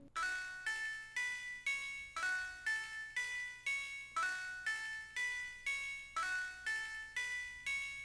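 Synth pluck chord progression in an ambient plugg beat, bell-like plucked chords repeating in an even rhythm with soft decays, quiet and alone.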